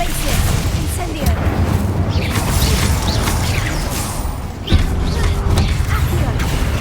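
Spells cast in Hogwarts Legacy, Confringo and Incendio, come as a steady wash of magical whooshes, rumbling booms and crackling blasts that stay loud throughout, with a sharp hit near the end and a player's voice calling out over the din.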